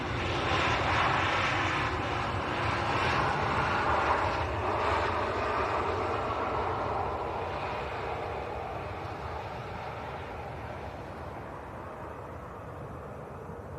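Airliner engines roar at Leeds Bradford Airport, a broad, loud rumble that is strongest early on and then slowly fades as the aircraft moves away, heard alone without speech.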